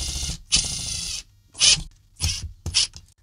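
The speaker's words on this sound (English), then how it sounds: "So it just rubs up against the plastic and screws in." Screw driven into a plastic shed shelf, heard as several short bursts of gritty, ratcheting whirring from a driver with brief pauses between them, close and fairly loud.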